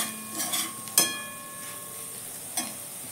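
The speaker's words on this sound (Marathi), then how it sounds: "छान आपण तेलामध्ये कारला असं परतून घ्यायचं" Bitter gourd sautéed in oil in a pan for a bhaji, giving a soft steady sizzle with a few brief scraping stirs of a spatula, close and fairly quiet.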